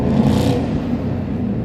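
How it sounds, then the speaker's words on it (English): Cars with loud mufflers revving on a Chicago street near Daley Plaza, a steady close engine drone and whir filling the moment with no talk. "People making noise with their mufflers."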